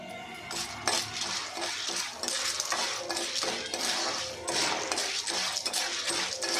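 Popcorn kernels with turmeric fry in a pan over high flame, giving a dense, continuous rattle of small clinks and sizzling crackle that stays steady and close throughout.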